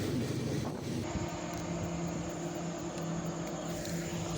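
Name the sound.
mail train passing by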